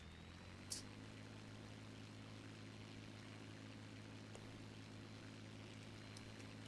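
Simulated propeller aircraft engine in Silantro Unreal Flight Simulator, running as the throttle comes up, a steady low drone with layered harmonic hum throughout, moderately faint with one brief click near the start.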